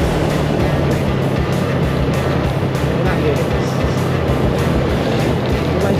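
Yamaha Mio scooter with a standard engine and stock CDI, ridden on a rough road: a steady engine drone with wind rush runs throughout, with someone talking over it.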